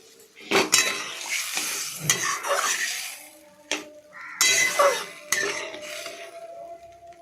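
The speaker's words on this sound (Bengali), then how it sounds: "এরপরে আমি ভালোভাবে নাড়াচাড়া করব। এদিক ওদিক করে নাড়াবো।" A spoon stirs fish curry with brinjal in a metal cooking pan, giving repeated scraping and clinking strokes with a light sizzle between them, close and fairly loud, with no talk.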